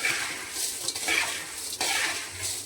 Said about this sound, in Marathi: आता हे सगळं असं मिक्स करून घ्यायचं आधी.